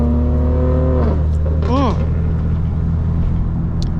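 Straight-piped BMW M4 Competition accelerating through a canyon, a loud steady engine drone with rising harmonic tones as it pulls, heard from inside the car.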